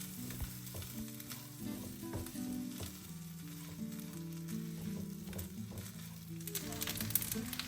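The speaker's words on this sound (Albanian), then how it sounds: "Orizin do vazhdojmë ta skuqim vazhdimisht duke e përzier her pas here." Steady sizzling of rice frying in a pan for pilaf, with occasional stirring scrapes, under continuous background music.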